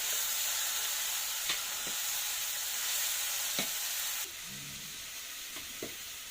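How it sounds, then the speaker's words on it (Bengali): Fish fries in a pan with a quiet, even hiss and a few faint clicks and spatters, the sizzle dropping slightly in level partway through. "মাছ ভাজি হয়ে গেছে, নামিয়ে ফেলবো।"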